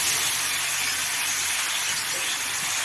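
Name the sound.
onions added to sizzling frying vegetables in a pan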